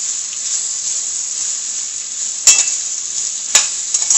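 Ingredients for yellow rice sautéing in a pan, a loud, even close sizzle broken by two sharp stirring clatters.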